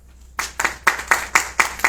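An audience at a geophysics talk welcoming a speaker with applause, starting after a brief quiet moment and continuing as a run of loud, irregular clapping bursts.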